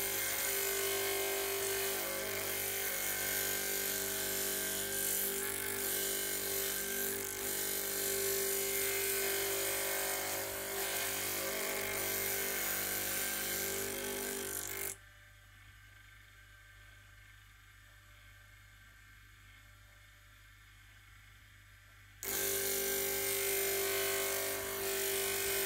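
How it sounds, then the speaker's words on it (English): A grinding wheel sharpens the edge of a helical machine reamer, giving a continuous close motor hum and grinding whir that drops to near quiet partway through, then resumes. "just put gentle pressure on and just grind the edge"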